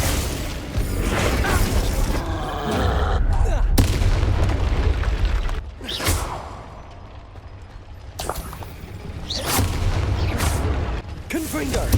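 Ice spell cast during a Hogwarts Legacy duel, loud booming magical blasts and crackling impacts over about twelve seconds, several sharp bursts with pauses between, game voices shouting over the combat.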